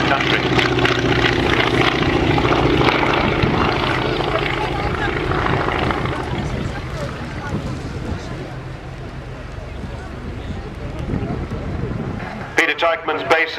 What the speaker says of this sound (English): his Spitfire is actually the world's only airworthy Mark 11 Spitfire built in 1944